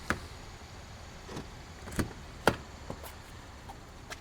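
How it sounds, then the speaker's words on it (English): A Buick LaCrosse being unlocked with its key fob after remote start, giving a few faint, brief clicks and thunks from the door locks over quiet background hiss. "in order to drive our LaCrosse after it's been remote started, we'll need to unlock it"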